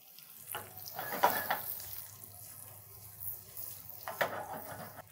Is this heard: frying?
yes